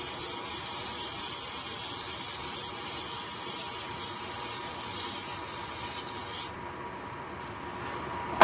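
Abrasive paper rubbing against a spalted beech box spinning on a wood lathe, a steady dense hiss that holds for several seconds, then drops to a quieter, thinner whir as the contact eases near the end.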